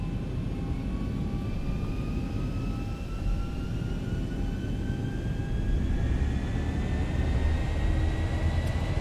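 Boeing 737-800 jet engines spooling up to takeoff power in X-Plane 11, a loud steady roar with rising whine tones climbing through the run, continuous and close with no talk.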